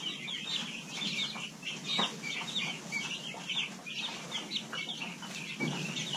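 A flock of small laying hens clucking steadily, a busy overlapping chorus of soft clucks and chatter at moderate distance, with no talk.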